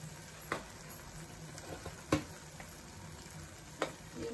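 Masala with Kashmiri red chili powder frying in oil, a soft low sizzle broken by a few sharp spoon taps and scrapes against the pan as it is stirred.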